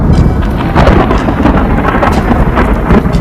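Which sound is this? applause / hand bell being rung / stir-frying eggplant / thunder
thunder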